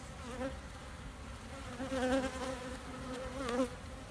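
A steady, low drone of many honeybees buzzing around hive boxes, faint and continuous, with a few slightly louder swells as individual bees pass close.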